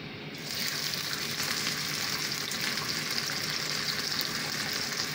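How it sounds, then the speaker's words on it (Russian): Pieces of lamb saddle steak fry in vegetable oil in a hot cast iron pan, giving a steady, dense sizzle that starts abruptly and continues unbroken. "Я выкладываю кусочки мяса на разогретую чугунную сковороду, в которой обычное растительное масло."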